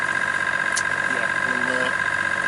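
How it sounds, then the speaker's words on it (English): A sailboat's inboard engine runs steadily while motoring toward Oban and Kerrera Marina, a constant mid-pitched drone with a brief hiss; a voice speaks faintly over it. "So yes, definitely engine staying on"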